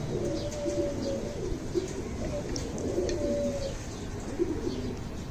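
Pigeons coo softly in a breeding loft, repeated low rolling calls over a constant background hiss, with faint chirps from other birds.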